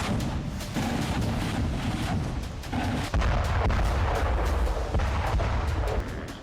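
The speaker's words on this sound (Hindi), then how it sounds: "रूस आर्टिलरी से घेर कर हमले कर रहा है।" Russian artillery fires in repeated sharp booms and heavy thuds over a roaring, wind-buffeted background, with one louder blast midway and the rumble continuing after it.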